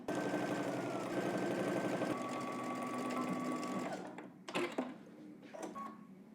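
A sewing machine stitches a 5/8-inch seam on a Simplicity 3168 jacket and cape, humming in a steady close whir for about four seconds before stopping, followed by a few faint handling taps.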